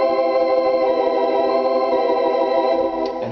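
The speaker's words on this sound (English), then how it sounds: "I selected a preset called the Waltzes, which is a theater organ sound, which the right hand sounds like this" Theater-organ Waltzes preset on a Roland AT-900 Platinum organ, right-hand part alone: a rich, sustained chord held steady and loud, with a slight change near the end and no talking.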